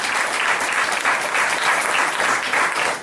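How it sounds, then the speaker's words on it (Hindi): A burst of loud, sustained clapping from a crowd fills the whole moment without pause. "जोरदार ताली मैडम के लिए"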